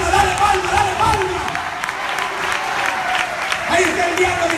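A church congregation applauding during a lively Spanish-language worship service, a sustained wash of clapping and crowd noise beneath an amplified preacher's voice speaking over it.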